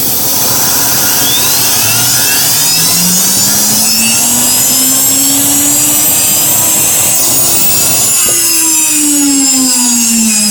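An impulse turbine spins up at 50 kPa inlet pressure, climbing toward 30,000 to 35,000 RPM: a loud, steady whine rises in pitch over broad rushing air, briefly jumping higher near the end.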